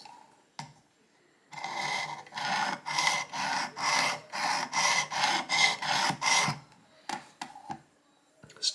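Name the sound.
sharpening rusty single bevel broadhead on Work Sharp Precision Elite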